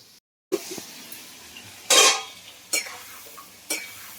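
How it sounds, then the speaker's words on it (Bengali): Prawns frying in a pan, heard as short bursts of sizzle and stirring scrapes at irregular intervals, close and fairly loud, with quiet gaps between. "চিংড়ি মাছগুলো ভাজি করি"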